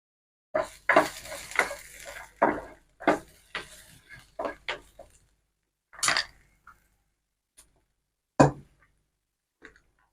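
Carrot chutney with curry leaves, simmering on low heat as juice is added: scattered clinks and scrapes of a utensil against a pan, close by, with quiet gaps between them and no talking.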